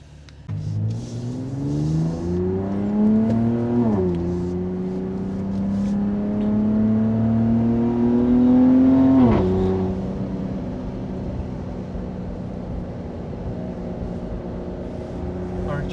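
A Ram RHO pickup fitted with an AWE aftermarket exhaust revs hard and close, its deep engine note climbing twice in long pulls before settling into a steady rumble, louder than stock.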